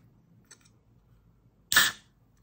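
A can of Twix iced coffee is cracked open, a faint click followed by one sharp, close hiss of released pressure that quickly fades.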